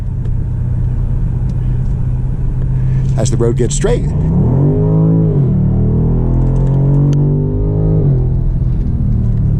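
A BMW M850 Convertible accelerates on an open road, its engine rumbling low and climbing in pitch through two rising pulls while someone talks over it from inside the cabin.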